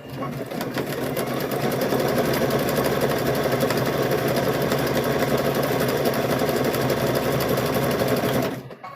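A sewing machine stitching across rope pinned in place for a scalloped rope wall hanging, running loud and steady with a fast continuous motor whir and needle rattle for about eight seconds before stopping abruptly.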